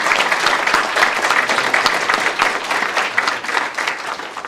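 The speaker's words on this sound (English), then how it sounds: "So a big round of applause for them" An audience at an evening public talk applauds steadily for the event organisers, a dense, even wash of clapping that holds at full level throughout.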